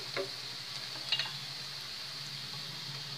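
Red chili powder gets mixed into sautéed onions in a pan, with a soft steady sizzle and a couple of brief scraping stirs near the start and middle, no one talking.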